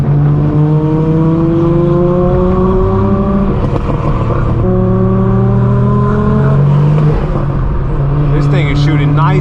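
A Dodge Hellcat's loud engine revs hard and roars close by at a big Los Angeles car meet, its pitch climbing in repeated surges as the car speeds past.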